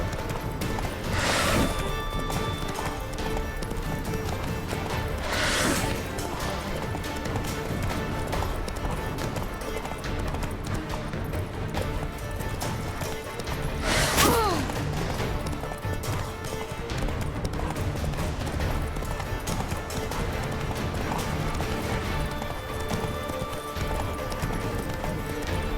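Horse galloping at full sprint in The Witcher 3: Wild Hunt, steady rapid hoofbeats running throughout under game sound, with a few sharp bursts standing out and brief voices.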